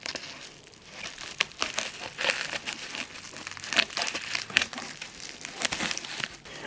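Scissors cutting through heavily wrapped plastic packaging on a new FL Studio box, close and crinkly, with irregular snips and crackling rustles throughout and no talking.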